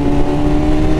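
A Kawasaki Z650 motorcycle engine runs at a steady, loud idle close by, with a constant low drone and no voices over it.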